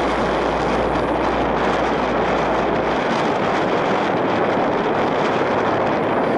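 A headwind buffets the microphone on a downhill ride during a bikepacking trip in Sicily, a loud, steady roar of wind noise that fills the whole stretch without letting up.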